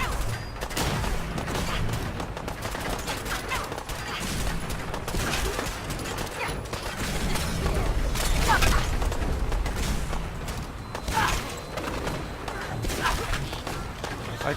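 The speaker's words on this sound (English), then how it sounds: "I don't know who I'm shooting at." Gunfire rattles through a Fallout 4 firefight in rapid, dense volleys of sharp cracks and bangs that keep going with little pause, loud and close, sometimes swelling into heavier bursts.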